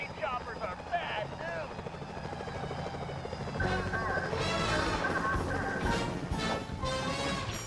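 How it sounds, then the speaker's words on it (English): Security helicopters in the Sly 4 museum heist level whir and thump through a dense game soundtrack, with crashes and effects layered over the rotor noise, and the mix grows louder and busier midway through. "Those security choppers are bad"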